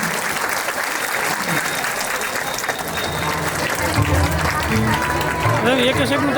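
A crowd applauds at a temple consecration festival for news of a road built beside the temple. The steady clapping lasts several seconds, and voices talk over it near the end.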